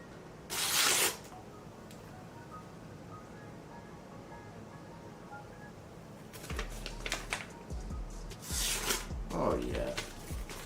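Knife blade slicing through material in a cut test, heard as a sharp rasping cut near the start, then several more scraping, rubbing strokes later on, loud and close with no speech.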